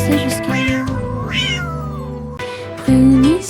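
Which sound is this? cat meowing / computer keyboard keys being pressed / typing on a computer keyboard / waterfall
cat meowing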